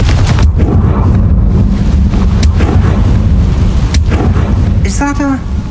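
A Confringo fire spell explodes in the Hogwarts Legacy video game, a loud roaring blast with rumbling debris and crackling bursts that rolls on for several seconds, ending in a brief tonal chime.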